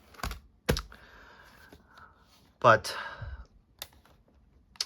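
Keys clatter on a full-size laptop keyboard in short bursts of clicks and taps, with a brief spoken word in between.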